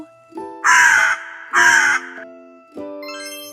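A crow gives two loud, rasping caws about a second apart, set against soft sustained musical tones and a light tinkling flourish at the end.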